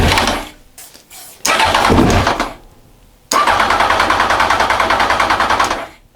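A Honda Fireblade motorcycle being cranked during fault finding, with short bursts of rapid rhythmic starter churning separated by pauses, then a longer loud cranking run as the engine nearly catches, close up with no talking.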